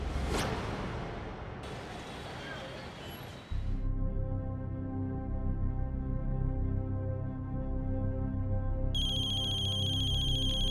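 A phone ringtone plays a steady electronic melody after a brief rustling whoosh at the start, loud and continuous with a bright high tone added near the end.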